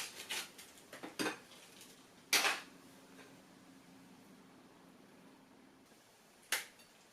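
Vegetable cracker packets from an MRE are torn open in a few sharp crinkly rips, with quiet pauses between them and one last tear near the end.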